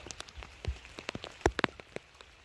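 Rain falls on a farm plot in the Konkan countryside during field-clearing work, its soft steady patter broken by several sharp close drips and taps, with no voices.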